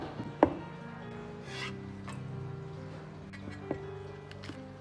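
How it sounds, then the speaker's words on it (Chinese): A knife chops coriander into short lengths on a board, giving a few sharp, close taps spread out over a soft background hum, with no talking. "香菜几根，清洗干净，控干水分，然后切成段。"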